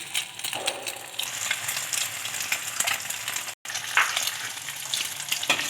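Shami kababs of daal and chicken sizzle steadily in oil on a tawa over moderate heat, a close, continuous crackling fry with brief stirring clicks and no talk.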